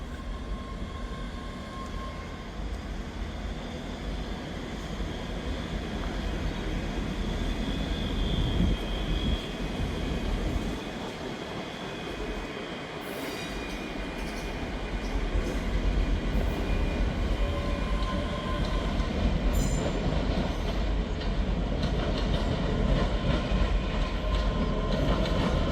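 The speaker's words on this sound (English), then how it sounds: "Departing out now is the 1203 Scotrail service starting here at Edinburgh Waverley to Dunblane. 385105." ScotRail class 385 electric train 385105 pulling out of Edinburgh Waverley station, a steady broad rumble and rail noise that swells slightly as it departs, with faint higher squeals and clicks; no talking.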